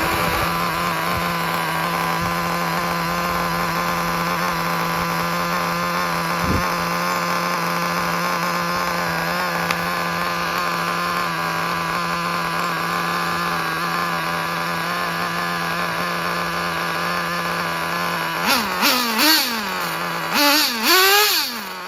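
A Traxxas Jato 3.3 nitro RC car engine idles with a steady, high-pitched buzzing drone, close and unbroken, before a few quick throttle blips rise and fall near the end.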